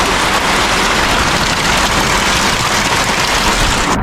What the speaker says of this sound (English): The rain now kick me out of my tent.